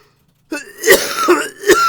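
A person coughs and clears their throat several times in close, sharp bursts, with no talk around them.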